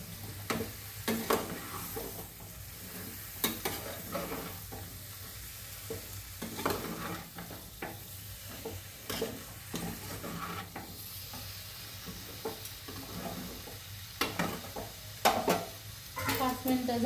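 Chicken stirred and sautéed in a pan for a Maharashtrian sukka dish, with a steady low sizzle under repeated scraping strokes of a spoon against the pan, close by and without speech.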